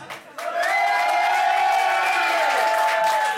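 A rock concert crowd at a live club show applauds and cheers loudly and steadily, a dense wash of clapping with whoops rising over it after a brief quieter start.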